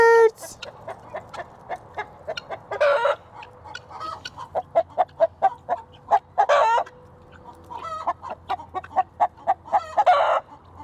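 Chickens and guinea fowl call over and over, with loud, overlapping clucks and harsh, rhythmic cackling bursts, plus a rooster crowing close by, all above a steady low farmyard hum.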